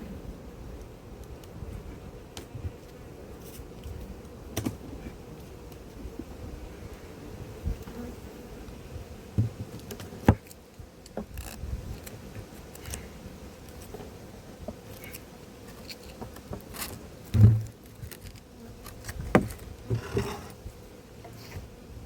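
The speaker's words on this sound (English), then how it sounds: "Wasps are going nuts with that." Wasps buzzing around a beehive super at an apiary, a steady low drone of many insects with occasional louder passes near the microphone, light wind noise underneath and no talk.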